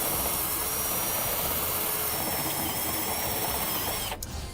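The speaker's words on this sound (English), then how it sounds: "So I got a step bit on a drill, and I'm just going to" An electric drill fitted with a step bit bores a hole through sheet metal, a steady loud whirring grind with a high whine that runs continuously before cutting off near the end.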